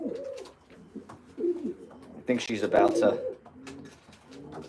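A racing pigeon hen, close to laying eggs, gives soft low coos in several short bursts close by, mixed with ongoing talk from a person handling her.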